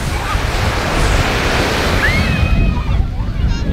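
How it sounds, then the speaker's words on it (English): Ocean surf washes onto a beach at Cruz de Huanacaxtle, Mexico, a loud, continuous roar of breaking waves mixed with wind buffeting the microphone. "Now I'm here on the beach."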